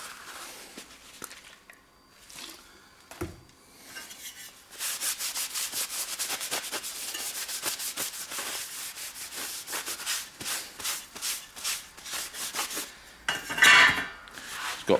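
A cloth rubbed over a rusty part of a Maxcom 4E CB radio during repair, soft close scrubbing strokes in bursts with faint clinks, some quiet pauses between passes.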